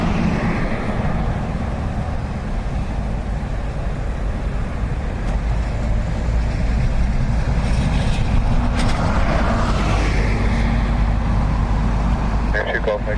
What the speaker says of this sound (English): ATR next, coming in from Edinburgh.